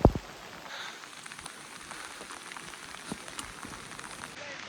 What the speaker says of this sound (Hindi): बारिश में बुरे हाल कर दिए भाई, बहुत तेज बारिश है।